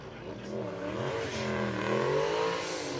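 Drift cars with a 2JZ and a V8 at Formula Drift Japan, engines revving and climbing in pitch with tyre-laden roar, moderately distant and continuous over three seconds.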